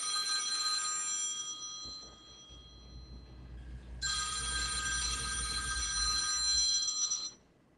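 A phone rings for an unknown caller in two long electronic ring bursts, with a short gap between them. The ringing is close and clear, with no talking.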